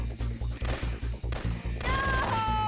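Shotgun fire in the video game Syphon Filter 2: a rapid, evenly spaced series of loud, punchy blasts, followed by a brief higher ringing tone near the end.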